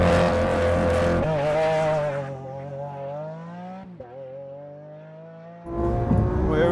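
A Lamborghini Aventador S and a Tesla Model X P100D launch from a standing start on a quarter-mile run, with a loud engine roar and rising, shifting revs that fade into the distance before another burst of engine noise returns.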